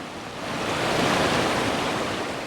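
Water of a mountain valley stream at Yongchu Valley in Gapyeong rushes in a steady, broadband wash, loud and continuous with no voices.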